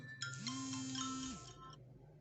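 A phone ringtone for an incoming call: a short electronic melody of bright, bell-like tones over a sustained low hum, fairly quiet and lasting about a second and a half before cutting off, with no talk.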